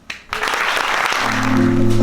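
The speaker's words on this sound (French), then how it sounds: "Merci de l'applaudir." Applause from a theatre show audience starts abruptly and carries on as dense, loud clapping, with a tonal hum rising underneath toward the end.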